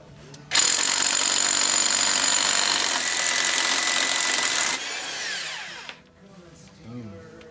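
Pneumatic impact gun loosening 36 mm axle nuts on a 2005 Jeep Grand Cherokee WK, a loud sustained rattling whir lasting several seconds before cutting off, followed by a brief quieter burst and faint shop noise.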